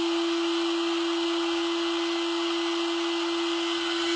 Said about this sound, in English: So what I do is I bust out the dremel. Sandpaper bit, dremel.